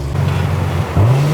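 A V8 engine in a 1000 WHP Corvette, a deep, loud burbling idle close by that rises briefly into a higher-pitched rev near the end.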